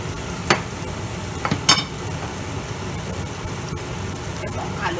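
Prawns frying in a spicy masala in a pan, a steady close sizzle with occasional sharp clinks and scrapes of stirring.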